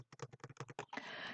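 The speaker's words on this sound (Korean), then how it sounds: "그것을 타이핑을 해서 요렇게 넣어 보도록 하겠습니다" Rapid keystrokes on a computer keyboard as a file path is typed, a quick run of close, crisp clicks followed by a brief burst of broader noise.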